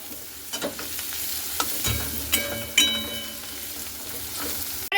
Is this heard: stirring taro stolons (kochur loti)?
yes